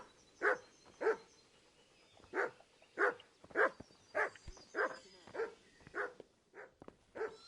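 A dog in the medieval role-playing game Kingdom Come: Deliverance barks about a dozen times in a steady, evenly spaced series of sharp, mid-distance woofs, with no talk over them.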